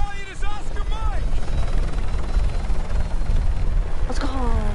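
A helicopter in Call of Duty Modern Warfare drones with a loud, steady rotor rumble, and shouted voices break in over it at the start and the end.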